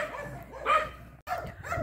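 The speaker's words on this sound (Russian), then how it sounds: "Тихо! Только псы со всех сторон лают." Dogs bark from several directions on a quiet side street, sharp barks and yips at moderate distance, one louder burst near the middle, with brief pauses between them.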